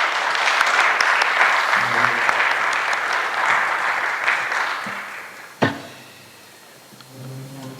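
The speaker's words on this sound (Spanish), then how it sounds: "Recibamos al doctor con un aplauso." Audience applause welcomes a doctor to the lecture stage, a sustained dense clapping that fills the room for about five seconds, ending in a sharp thump and then quieter scattered noise.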